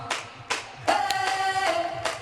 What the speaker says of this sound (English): Clap it up one time, one time, one time.